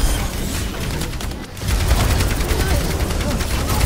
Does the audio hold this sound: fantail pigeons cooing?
no